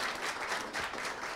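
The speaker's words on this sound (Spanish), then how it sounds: "démosle un gran aplauso a Doña Pilar" Audience applause for Doña Pilar after a talk, a steady dense wash of clapping from a crowd for just over a second with no voices.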